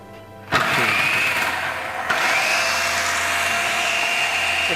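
An electric food processor slicing a potato switches on with a sudden, loud motor whine, briefly dips, then surges again into a steady, high whirring drone close by.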